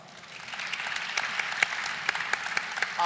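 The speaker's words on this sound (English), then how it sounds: "Give her a round of applause." A conference audience at a White House education initiative session claps together in a steady, moderately loud round of applause with crisp individual claps, building slightly and sustained for about three seconds without talk.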